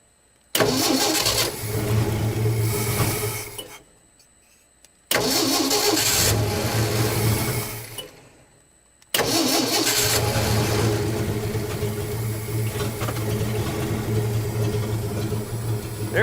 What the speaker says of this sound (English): There, it's idling, barely.